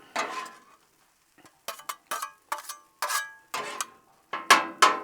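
A metal spatula scrapes and taps across a Blackstone griddle while peppers and onions are mixed into cooked eggs: a close series of short, sharp clinks and scrapes separated by brief pauses, with no talking.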